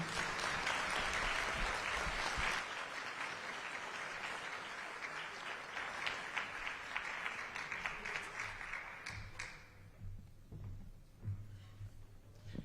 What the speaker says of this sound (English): Let's give Dee Dee and Jeff another round of applause